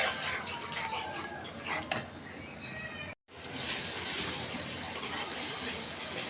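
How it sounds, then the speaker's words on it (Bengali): Ground spices with ginger-garlic paste and cumin are stirred and mixed in a bowl, with close scraping and light clinking, one sharp knock, a brief dropout, then steady mixing resumes, with no one talking. "এখন আমি এক একে মশলা দিয়ে দিয়ে এই বাটির ভিতরেই তারপর গুলাই নিব ভালোভাবে কষাই নেব মশলাটা"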